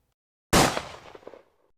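A single loud gunshot fired in a Western-style audio drama gives a sharp, close blast after a moment of silence, followed by a short rumbling echo that fades out.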